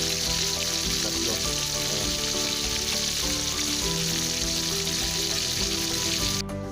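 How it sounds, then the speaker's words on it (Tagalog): Loud, continuous sizzling and crackling of bisugo (threadfin bream) frying in hot oil in a pan, close and steady throughout. "Prito na natin yung ating bisugo."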